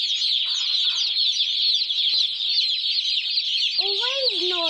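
Busy, continuous chatter of a large flock of broiler chickens clucking and calling nearby, with a few louder squawks rising near the end.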